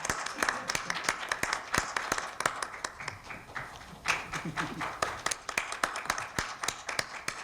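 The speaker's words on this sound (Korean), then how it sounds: "이제 박수 치셔도 됩니다." Scattered audience clapping at a Kwanhun Club debate forum with a party leader, sharp individual claps spread across the room at moderate level, with a low murmur of voices beneath.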